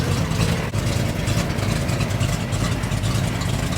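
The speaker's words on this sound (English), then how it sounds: "There's just something about an old International, the way it sounds." An old International tractor engine idles steadily on a farm, a loud, close, continuous low rumble with no talk over it.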